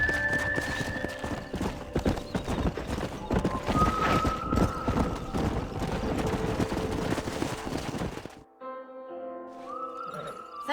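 Steady clip-clop of horse hooves at a brisk pace, fairly close, with a gunshot-like crack in the mix before the hoofbeats suddenly stop, in the game Red Dead Redemption.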